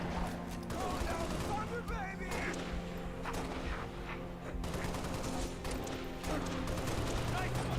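Heavy, sustained gunfire and explosive impacts in the Halo: Reach video game, a dense continuous barrage of rapid shots and blasts with no pauses, loud and close.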